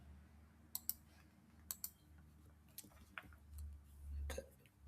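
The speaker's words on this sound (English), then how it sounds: "Sorry, my keyboard." Computer keyboard typing at a desk, a few scattered clicks and short bursts of keystrokes, quiet and close with faint room noise and no speech.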